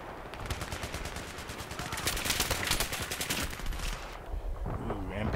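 Rapid automatic MP7 fire rattles through a Battlefield 3 team deathmatch on the Seine Crossing map, dense continuous bursts that are loud and close, with other gunfire mixed in before a brief tail of quieter game sounds.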